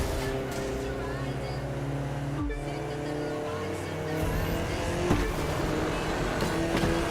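Car engine roaring during a street race in The Crew 2, a steady loud drone with gear changes and shifting pitch, alongside tire noise, with someone talking over it.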